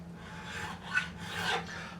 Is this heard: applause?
no